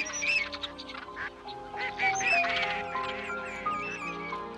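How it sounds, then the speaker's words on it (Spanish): Common pochards and red-crested pochards on a Doñana marsh give a close, busy chorus of quacks and squeaky calls, several birds overlapping over a steady background hum. "Con los porrones comunes se mezclan a veces los patos colorados y otras especies buceadoras"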